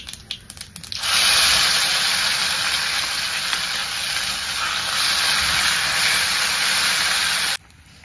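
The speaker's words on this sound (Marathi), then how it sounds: "मी 1 चमचा मोहरी टाकले, 1 चमचा जिरे टाकून घेते. जिरे मोहरी तडतडल्यानंतर" Mustard seeds and cumin hit hot oil for a cabbage and cauliflower curry, and a loud, close sizzling hiss bursts in after a second, roars steadily for about six seconds, then cuts off abruptly.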